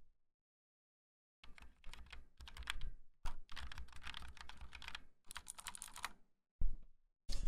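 Keystrokes on an ROG RX optical mechanical keyboard with red switches, close and crisp, coming in quick bursts of rapid clacking separated by short pauses, with no talking.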